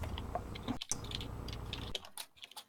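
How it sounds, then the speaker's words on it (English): Soft, steady tapping on a computer keyboard during a tabletop role-playing game session, with rapid close keystrokes that break off briefly before a few scattered clicks. "somebody's typing."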